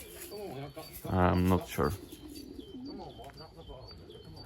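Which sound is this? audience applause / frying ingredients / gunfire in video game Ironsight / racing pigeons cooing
racing pigeons cooing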